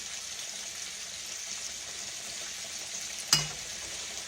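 Grease bubbles and sizzles in a steady, hissing fry, close and even throughout, with one sharp clack near the end and no talking; the grease is the kind used to fry catfish.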